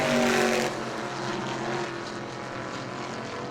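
Mod 20 race cars run side by side down the front stretch at New Smyrna, engines droning in a steady, moderately distant roar that swells briefly at the start and then holds at an even level.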